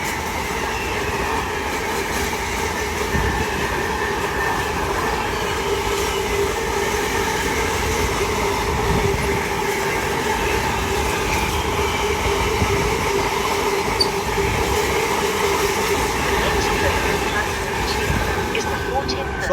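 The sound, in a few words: freight train passing through station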